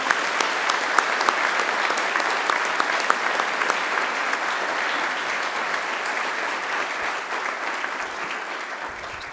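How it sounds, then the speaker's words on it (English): Sustained applause from a large crowd, a dense steady clatter of clapping that continues evenly throughout and fades slightly near the end. "another great round of applause"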